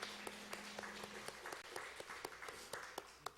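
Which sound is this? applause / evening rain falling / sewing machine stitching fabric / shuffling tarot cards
applause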